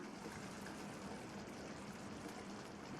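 A steady, soft stream of water pours and splashes continuously into a mixer jar, quiet and close, with no voices.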